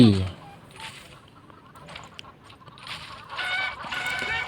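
Chicken clucking in the shooting game Bullet Angel: Xshot, mixed with busy game sound effects and background noise, with a short bright burst at the start.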